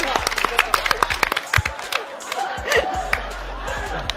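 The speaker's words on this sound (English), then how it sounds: "Why are y'all clapping?" An audience at a game show claps in scattered, uneven bursts of sharp hand claps, fairly close, mixed with crowd chatter and voices talking.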